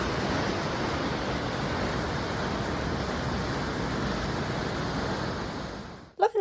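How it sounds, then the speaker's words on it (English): Water flowing into an open lava tube beneath a natural rock bridge near Crater Lake, Oregon: a continuous broad rushing roar, steady and fairly close, ending with a brief bump. "Here the water is flowing into an open lava tube, creating a natural bridge."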